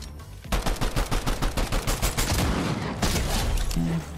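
Rapid automatic gunfire from a borrowed gun in Fortnite, a steady string of loud, close shots at an even rhythm, pausing briefly and then resuming in a denser burst before cutting off.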